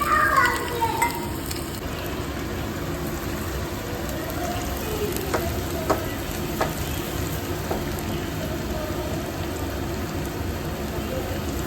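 Fish frying in oil in a village home kitchen gives a continuous dense sizzle with occasional stirring clicks, close and steady throughout.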